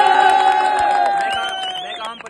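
A large crowd of political supporters cheers and shouts together, loud and close, with a sustained rising whoop carrying over the steady roar of voices.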